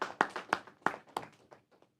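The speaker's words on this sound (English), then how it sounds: "So can we clap for them?" Audience at a public talk show for World Water Day, a brief burst of a few scattered handclaps, close and sharp, fading out within two seconds.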